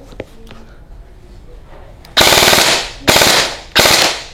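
Airsoft gun firing BB pellets in burst mode, three loud, sharp rattling bursts close by, each lasting about half a second, after a quieter stretch of handling noise.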